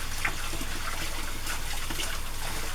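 Tap water runs steadily while a cleaning rag is rinsed under it, an even close splashing rush for the whole stretch with a few faint drips and no speech.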